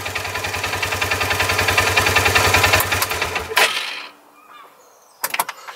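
A Polaris RZR 570 engine is started by bridging the starter terminals with a spanner and runs with a rapid, pulsing, buzzy putter close up for about three and a half seconds. It then cuts out, leaving quiet with a couple of sharp clanks.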